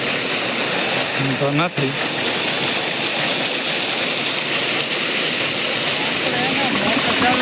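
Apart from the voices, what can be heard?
motor running, pumping water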